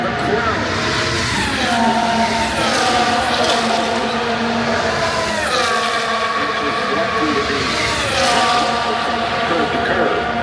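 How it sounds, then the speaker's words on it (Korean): Loud, continuous Formula 1 engine noise with rising and falling pitch sweeps as race cars roar past, mixed with crowd-like background din throughout. "매니아들은 F1의 이 배기음, 엔진 사운드 있죠"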